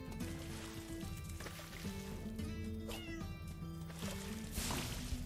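A cat meowing in the video game Spyro 2: Ripto's Rage, a few faint mewing calls over steady game music and ambient water sounds, with no talk.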